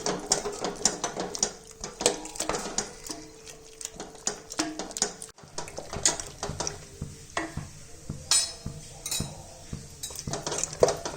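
Mustard greens saag being mashed by hand in a pot, Punjabi style, without a mixer or grinder. Irregular metallic knocks, clinks and scraping repeat close up with no talking.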